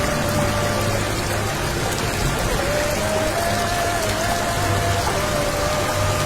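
Heavy rain pours down over a flooded residential street in Saraswathi Nagar, a Tambaram suburb of Chennai, where rainwater stands pooled, giving a loud, constant hiss of downpour with a faint faint low hum underneath.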